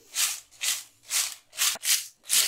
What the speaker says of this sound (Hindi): आवाज सुन लीजिए कितनी कड़ाड़ी अपनी घर की बनी वेफर तैयार हुई है।